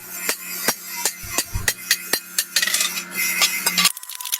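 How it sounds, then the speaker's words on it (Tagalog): A small cutter trims a metal propeller blade with sharp, evenly spaced metallic strikes and clinks under a steady hum from the cutter, loud and close, stopping abruptly near the end. "binilog na natin sa ating cutter na maliit"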